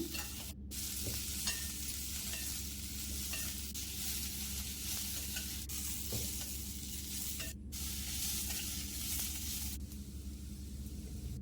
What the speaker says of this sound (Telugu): ఇప్పుడైతే అదే ఆయిల్లోకి కట్ చేసి పెట్టుకున్న 2 మీడియం సైజు ఆనియన్స్ను ఇందులోకి అయితే వేసేసుకొని ఫ్రై చేసుకుంటున్నాను